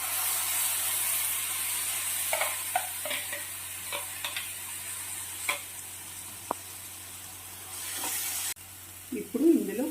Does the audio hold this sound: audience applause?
no